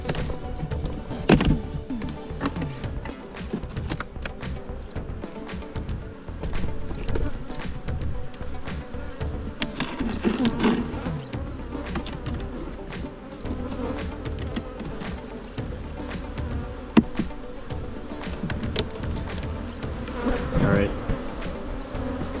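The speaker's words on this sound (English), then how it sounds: "Colony already looks a lot better than the previous one. Quite a few frames of bees." Honey bees buzz steadily throughout a beehive inspection, a dense close drone broken by occasional taps and knocks from hive frames being handled, with no talk.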